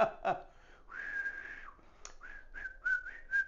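A person whistles on a front porch, a short wavering tune of a few sustained notes and quick slides, close and clear, with no talking.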